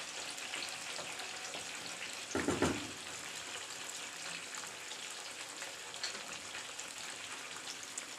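Salted eggplant slices for moussaka fry in hot oil with a steady, close sizzle; a louder burst of spattering flares up early, then settles back into an even hiss with scattered pops. No one speaks.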